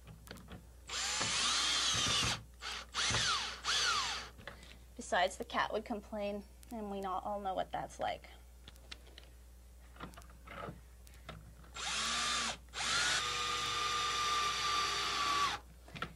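A variable-speed power drill drives screws into plastic in several bursts, some slow and some at full speed, with someone speaking briefly between the runs.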